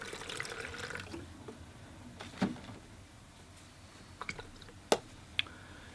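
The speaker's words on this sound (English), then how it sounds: "So I'll empty my water pail for some fresh water." Water sloshes and splashes as a pail used for rinsing watercolor brushes is emptied, a faint running wash with a few sharp drips and clinks near the end.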